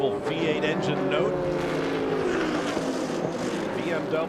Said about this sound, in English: While motoring around, that beautiful V8 engine note.